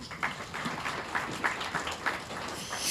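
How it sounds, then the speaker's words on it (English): A school audience gives a steady round of applause, with dense, even clapping that is moderately loud and fairly close and no clear speech over it. "Give her a round of applause."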